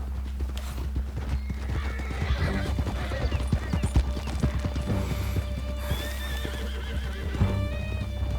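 Horse hooves clip-clop at a gallop while the horse whinnies loudly in Red Dead Redemption 2, set over steady game music and ambience, with a brief voice in the background.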